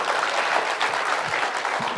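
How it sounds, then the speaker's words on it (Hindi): A crowd at a political rally in Punjab claps steadily and loudly for the full stretch, a dense, even wash of applause with no voices standing out. "इसके लिए तो तालियां होनी चाहिए"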